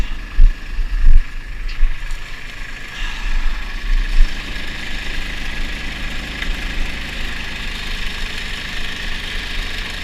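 A tractor engine runs with its PTO engaged during a March corn harvest, holding a steady mid-low drone. A few louder knocks come early, then a constant running hum with no talking.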